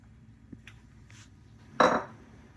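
A utensil scrapes and clinks against a bowl while half and half is stirred into a crab stuffing mixture, with a few light taps and then one louder stirring swish; no one speaks.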